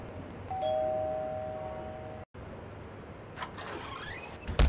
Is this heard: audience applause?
no